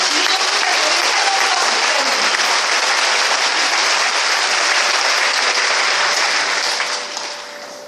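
Dense audience applause at a scholarship award ceremony for children of rural farming and fishing village pastors, a loud, sustained roar of many hands clapping that carries on for several seconds before tapering off at the end.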